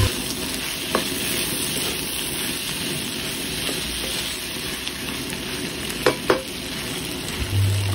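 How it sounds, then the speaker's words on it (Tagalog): Chopped lechon kawali stir-fried for spicy crispy sisig, a steady close sizzle of frying with a spatula scraping and clacking now and then, no talking. "gisa lang natin ang maayos ang ating crispy sisig"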